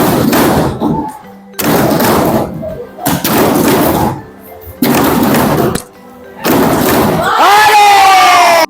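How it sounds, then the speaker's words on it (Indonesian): Junior high school students in a classroom slap their desks rhythmically as an ice breaker, in five loud bursts separated by short pauses. The last burst mixes with excited shouting voices. "murid diajak untuk sekedar melepas lelah dengan lakukan ice breaking tepuk meja"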